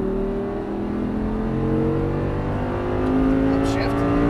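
An Audi R8 V10 on a race track accelerating out of a chicane, its engine droning loud and steady with rising pitch, heard from inside the car.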